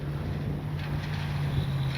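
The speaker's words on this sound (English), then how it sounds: "Oh boy, it gets windy now." Wind buffets a microphone in a steady low rumble during a Kavan Beta 1400mm RC trainer plane flight, with a constant droning hum beneath it and no voices.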